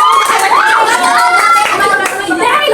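A crowd at the Sinulog festival shouts and cheers loudly and continuously, high excited voices rising and falling together close by.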